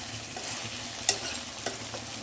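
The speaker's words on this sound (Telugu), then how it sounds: "ఇలా మగ్గించుకోవాలి ఆనియన్స్, పొటాటోస్" Onions and potatoes cooking in a pan, a quiet steady sizzle with a couple of soft stirring scrapes, close by and alone.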